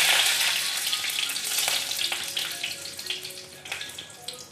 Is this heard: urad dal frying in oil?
yes